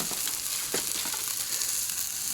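Turkey drumsticks sizzling and crackling on a Lodge cast iron Sportsman's grill partly covered with foil, a steady close hiss of fat frying with scattered pops.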